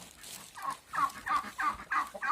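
Poultry and ducks cluck and squawk on snow in a rapid run of short calls, close and fairly loud, several birds chattering together.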